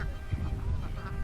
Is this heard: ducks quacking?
yes